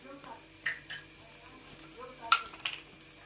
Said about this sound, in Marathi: चवीनुसार मीठ याला मिक्स करून घ्यायचं आहे